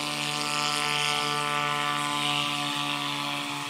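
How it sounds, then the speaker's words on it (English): A Viking light aircraft with a modified Honda engine rolls for takeoff at a STOL competition. The propeller drones in a steady, loud buzz with a distinct tonal hum and slight pitch shifts, and no talk is heard. "A modified Honda engine. You can hear it sounds different."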